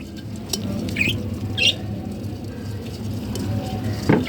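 Caged budgerigars give a few short, high squawks at irregular intervals over a steady low background rumble, fairly faint and spaced a second or so apart.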